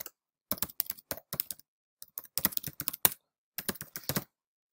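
Computer keyboard typing an email address: quick bursts of close, crisp key clicks in several clustered runs with short pauses between, no voices.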